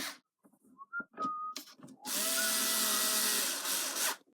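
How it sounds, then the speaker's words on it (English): A power drill drives screws while an electric unicycle is reassembled. Short chirps and clicks come first, then a loud sustained whine runs close by for about two seconds before cutting off. "you're now screwing it back together"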